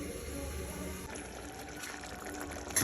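Water pours steadily into a pot of tomato curry, a continuous soft splashing trickle close by.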